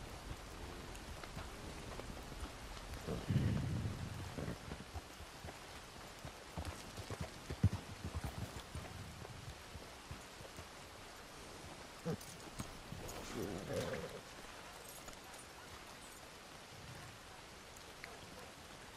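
Hooves of a Black Overo Mustang in Red Dead Online clop faintly and irregularly through steady rain falling on the ground, with soft distant rumbles beneath.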